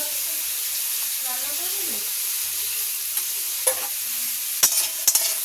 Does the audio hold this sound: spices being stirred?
yes